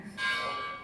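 A bell rings once at a book presentation during a book fair, giving a short, bright, sustained tone that fades quickly and stands alone with no talking.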